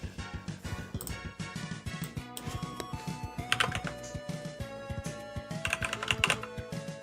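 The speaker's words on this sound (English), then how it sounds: "I was typing up" Steady typing on a computer keyboard, rapid irregular clicks and key taps continuing throughout at close range, with occasional heavier strokes and no talking.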